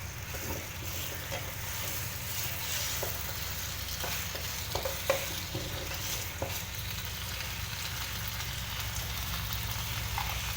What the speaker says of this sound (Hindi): इसको अच्छे से मैं इसमें भूनूंगी ऑयल में।